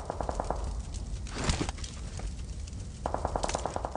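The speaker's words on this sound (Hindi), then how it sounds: "ये पीछे वाला बंदा देखो फायर कर रहे जा रहे" Automatic rifle fire from an AKM in a battle royale shooter: rapid bursts of gunshots near and far, with a louder blast in the middle and a fresh volley toward the end, no voices.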